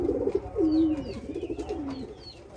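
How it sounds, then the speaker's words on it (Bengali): Two male pigeons coo nearby in a loft, with deep rolling throaty calls that overlap and repeat in pulsing phrases, joined by a few faint higher chirps in the background. "দেখেন দুইটা নরের ডাক দেখেন"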